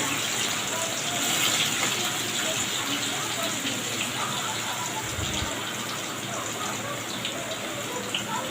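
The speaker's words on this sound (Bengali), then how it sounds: "আমি ডুবু তেলে ফ্রাই করে নিব এই চিকেনগুলো" Marinated chicken pieces deep-frying in hot oil give off a dense, continuous, bubbling hiss that holds steady and fairly loud throughout, close up with no talking.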